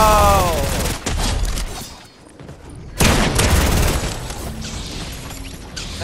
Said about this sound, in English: Bro, who is shooting at me now?